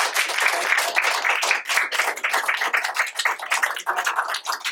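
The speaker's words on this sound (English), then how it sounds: "All right, a round of applause." A crowd claps steadily for recognized high school students at a school board meeting, dense overlapping applause filling the room at even volume throughout, with no voices over it.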